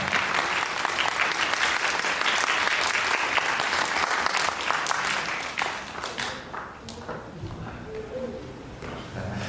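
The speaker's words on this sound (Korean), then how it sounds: "여러분 아버님을 박수로 맞이해 보도록 하겠습니다" Wedding guests in a Korean convention ballroom applaud to welcome the groom's father, a loud, full burst of clapping that fades after about six seconds into quieter room sound and murmuring.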